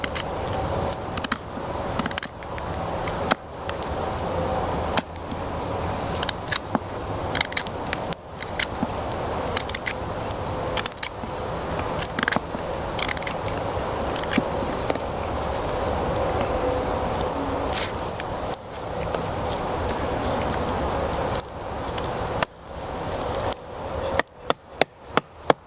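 Knife carving a wooden tent stake, rounding off its top end outdoors while bushcrafting with a Condor Kephart knife: repeated sharp scraping and chopping strokes of blade on wood, close and steady, ending in a few quick taps.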